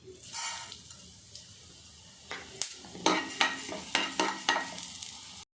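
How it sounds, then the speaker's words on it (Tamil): Three dried red chillies fry in hot oil for a South Indian ginger kuzhambu, giving quiet sizzling crackles, then a run of sharper clinks and stirring scrapes against the pan in the second half. "அப்புறம் மூணு காஞ்ச மிளகாய் பாருங்க காஞ்ச மிளகா நல்லா கருக விடக்கூடாது பொரிஞ்சிருச்சு எடுத்துட்டேன்"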